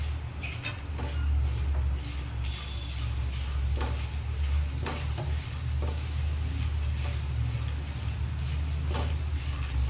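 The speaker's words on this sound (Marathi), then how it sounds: "काजू, छान लालसर भाजायचे।" Cashews roasting in a pan to a reddish-brown, with steady stirring scrapes and light sizzling over a constant low hum, sharp ticks of nuts shifting against the metal at irregular intervals.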